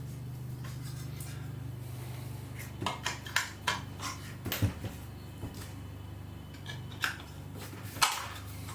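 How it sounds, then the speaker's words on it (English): Plastic outer casings snapping onto a toy Arocs tipper truck gearbox during assembly, a series of sharp clicks and knocks spread over several seconds, close and fairly quiet over a low steady hum. "the last part of the gearbox and probably the easiest part, is just putting the outer casings on"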